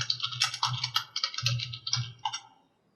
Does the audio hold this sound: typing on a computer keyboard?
yes